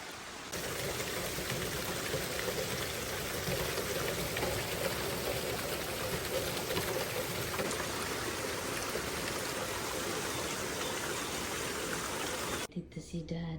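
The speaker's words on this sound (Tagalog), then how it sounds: "umulan na talaga malakas, guys. Lakas ng ulan." Heavy rain pouring steadily in New York, a loud dense hiss of water that cuts off abruptly near the end.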